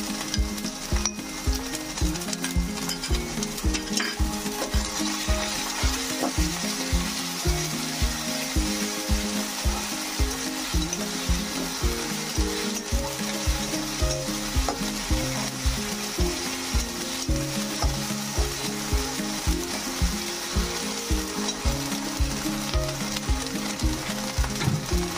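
Ginger-garlic paste with green chili frying in a pan for banana blossom chops, a steady close sizzle with rhythmic stirring scrapes running throughout, loud and unbroken.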